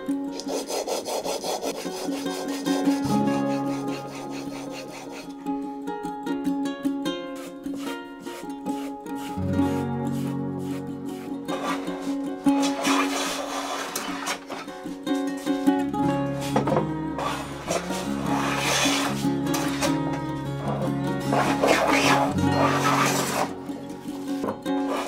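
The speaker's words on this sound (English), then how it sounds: "Now what I need to do is actually sharpen this blade." A hand plane blade is sharpened on a stone with steady back-and-forth strokes, close and moderately loud, in a rhythmic rasping scrape that pauses briefly between passes.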